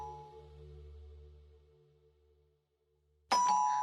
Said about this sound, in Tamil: பாத்தீங்களா, மணி அடிக்குது.